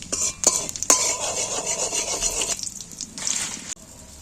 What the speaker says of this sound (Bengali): কালো জিরেটা আমি একটু ভেজে নেব।